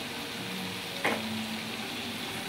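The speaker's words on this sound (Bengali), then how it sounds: "আবার একটু কষিয়ে নিচ্ছি" Boiled peas sizzle steadily in a hot pan after salt is added, with a single louder scrape of stirring about a second in, then continued even frying.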